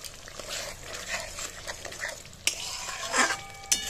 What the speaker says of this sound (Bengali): আমি খুব সিম আঁচে মশলাটাকে ভেজে নিচ্ছি।